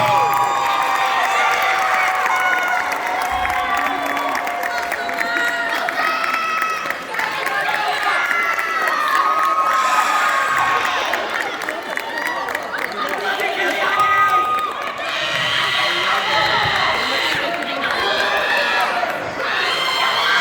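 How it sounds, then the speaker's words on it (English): A seated crowd at a high school band banquet awards ceremony claps and cheers for the freshman class, a steady, loud wash of applause with shouts and chatter lasting about twenty seconds. "Please round of applause for our freshman class."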